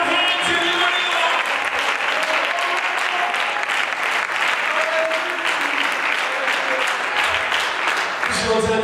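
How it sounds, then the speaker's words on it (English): A church congregation claps and cheers during a sermon in sustained, loud applause from a large crowd, with voices calling out and talk layered over the clapping throughout. "Somebody clap your hands if you believe it."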